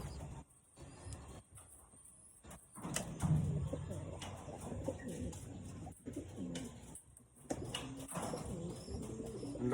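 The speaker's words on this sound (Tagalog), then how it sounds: "Ang lakas naman na ibon" A pigeon coos outdoors, low soft calls repeating amid background noise and clatter, with a person speaking at times.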